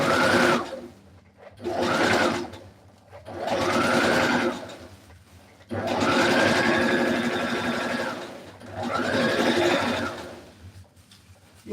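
Sewing machine stitching a cowl neck dress with the pins left in, running in five bursts of steady whirring separated by short pauses, close and alone.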